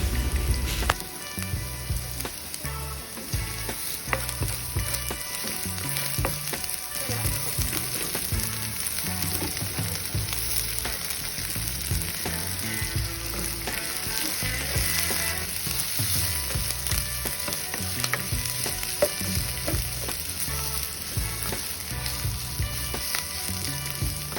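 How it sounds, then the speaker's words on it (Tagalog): Ginger and onion sautéing in hot oil in a pan for sweet and sour tilapia, a steady close sizzle and crackle with intermittent stirring scrapes throughout, no talking. "Ayan, kapag lanta na, ay isusunod na natin itong luya. Ayan, sunod-sunod na sila dito sa ating paggigisa."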